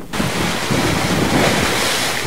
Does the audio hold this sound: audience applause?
no